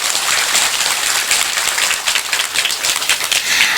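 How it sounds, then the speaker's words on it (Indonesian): Audience at a religious gathering applauding, a dense, loud, continuous patter of many hands clapping with no talk over it. "saya minta tepuk tangan dulu dong sama panitia"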